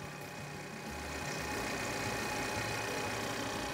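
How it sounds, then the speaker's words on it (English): A portable air compressor runs off a vehicle battery, a steady close motor drone that starts softer and settles into a constant even hum, with no talking. "that should power our air compressor"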